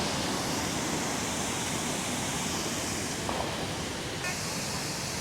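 Maranum Falls in Natividad, Pangasinan, running strong after rain, a loud unbroken broadband rush of falling water that fills the whole clip.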